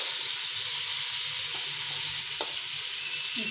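Blended masala hits mutton frying in hot oil, setting off a steady, broad sizzle that holds at an even level throughout, with a few faint scrapes of stirring and no voices.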